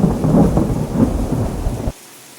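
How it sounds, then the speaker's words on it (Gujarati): Heavy rain pours in a dense, rumbling wash with a deep roll like distant thunder, cutting off abruptly near the end. "વરસાદ અત્યારે ચાલુ થઈ ગયું છે"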